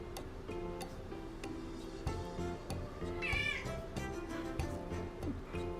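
A cat meows on a cat tree, giving a clear, drawn-out meow near the middle over quiet background with faint ticking and soft knocks.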